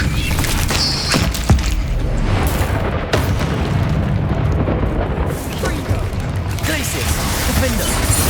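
Bombarda spell explosions in the Hogwarts Legacy video game, a dense barrage of booming blasts and crashes rolling continuously over a loud, busy battle soundscape with other spell effects.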